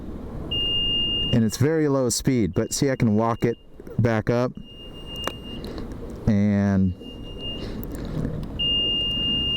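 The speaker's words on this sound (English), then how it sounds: "it does this pretty annoying beeping" A 2020 Vespa Elettrica electric scooter's reverse warning repeats a steady high-pitched electronic beeping through the clip, with someone talking over it between beeps.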